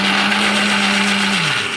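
A mixer grinder whirs at high speed blending mango lassi, a loud steady motor drone with a constant whine that dips slightly in pitch near the end, with no voices.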